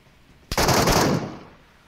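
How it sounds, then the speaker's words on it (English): A single rapid burst of automatic gunfire in the shooter game Metro Royale, loud and close, lasting under a second and trailing off into a short echo. "How is he shooting us through a fucking wall?"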